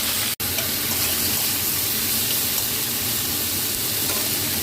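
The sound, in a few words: fried beans stir-frying with tomato and five-spice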